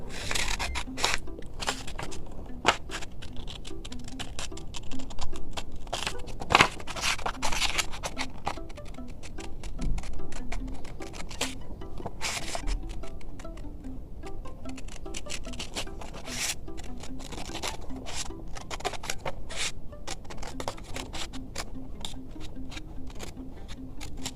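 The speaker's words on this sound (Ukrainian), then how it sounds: "Вирізаємо кружечок з білого паперу." Scissors cut a circle out of white paper, a dense run of quick snips and rustling paper crackle continuing steadily at close range with no speech.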